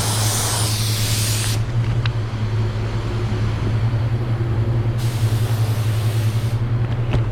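Spray gun laying down water-based paint for a two-tone finish in short, partial trigger bursts: two loud hissing sprays, one at the start and one midway, over a steady low booth or fan drone.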